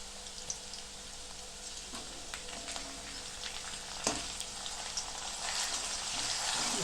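Ground ginger-chili paste frying with cooked capsicum in a pan for dum aloo gives a steady, dense, close sizzle with scattered crackles and pops, one sharper clack midway, and a hiss that swells slightly toward the end, with no voices.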